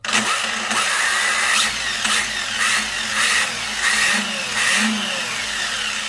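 Hobao VTE 2 electric RC car running with quiet diffs, a smooth whirring motor that rises and falls in pitch in repeated throttle bursts, steady and fairly loud up close, with no gear whine.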